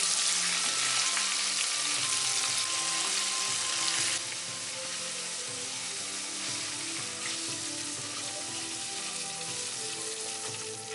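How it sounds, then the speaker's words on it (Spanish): Wafu-style Japanese karaage chicken frying a second time in hot oil at about 180 to 190 degrees, a dense, steady, loud sizzle and crackle that fills the whole stretch without any talk. "De nuevo freímos, pero ahora con alta temperatura, como 180, 190 por ahí."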